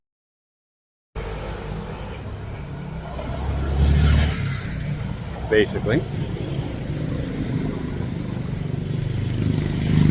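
Road traffic passes along a roadside while someone walks against the flow, with a car engine swelling and fading over steady low rumble; a voice talks over it, and a few brief clatters cut through midway.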